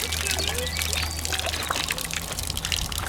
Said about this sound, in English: there's going to be a sound of running water